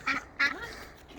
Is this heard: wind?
no